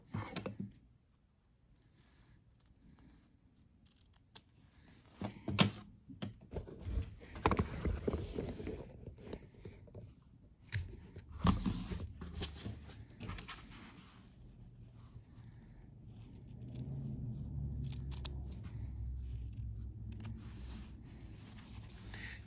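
Scissors trim the corners of quilted fabric from a store-bought quilt, with soft, close snips and rustling that come in a cluster midway, over a quiet background.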